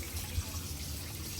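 Water pouring and splashing steadily during a dog's bath, a low continuous rush that stays close and even throughout without any voices over it.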